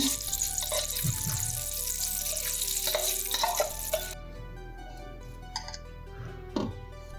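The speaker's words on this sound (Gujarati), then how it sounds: "બાકીનું બધું જ ઘી છે એને આપણે આમાં એડ કરી દઈએ લોટ શેકવા માટે" Ghee pouring into a pan to roast flour for Gujarati adadiya pak, a wet frying sizzle with clinks and stirring noises close by at moderate level, quieter and sparser in the second half.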